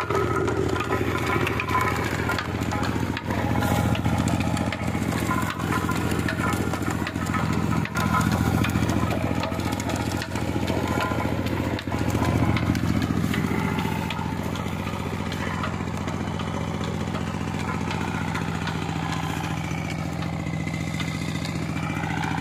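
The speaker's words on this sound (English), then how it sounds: "Here you can see they're using a generator to extract sugar" A generator runs a sugar cane juice extractor in Sindh, a loud, steady engine drone with a mechanical knock that continues without a break throughout, heard close up and with no speech.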